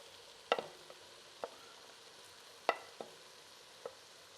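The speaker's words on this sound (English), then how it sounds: "you want to saute these for about 3 minutes" Chopped celery and carrot sauté in a pan, a quiet soft sizzle punctuated by a few sharp clicks and taps of stirring utensils against the pan.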